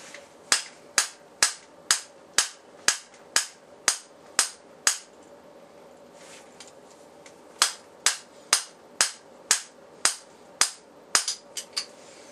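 Pistol rounds, Gold Dot defensive ammunition from a concealed-carry pistol, are fired at a target: two rapid strings of about eighteen loud, sharp shots in total, evenly paced, with a short pause between the strings.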